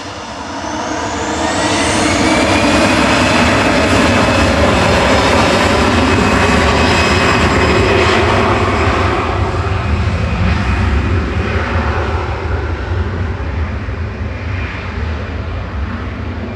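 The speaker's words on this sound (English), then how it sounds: "This is flight 1995 GEZWD, operating it, a 12-year-old A320 Classic" An easyJet Airbus A320 jet departs Manchester Airport with a loud, sustained engine roar that builds over the first two seconds, holds steady, and eases slightly toward the end, with a rising whine above the broad rumble.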